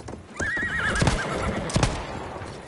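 A horse in the video game Battlefield 1 lets out a long, wavering whinny close by, with rapid clip-clop hoofbeats of a gallop running under and after it.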